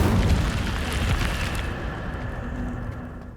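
An Incendio fire spell goes off in Hogwarts Legacy, a loud close whooshing blast with a booming burst that rumbles and gradually fades away.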